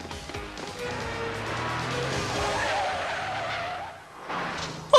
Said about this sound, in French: on dirait le moteur de l'Aston Martin